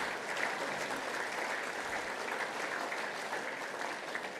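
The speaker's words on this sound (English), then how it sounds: "round of applause" A room at the 2023 Queensland Football Hall of Fame event breaks into a steady, fairly distant round of applause, with the continuous clapping of many hands holding even throughout.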